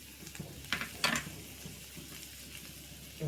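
Ginger and garlic sizzle in hot oil in a pan for an ivy gourd fry, a soft steady frying hiss with a few brief stirring scrapes, alone and fairly quiet.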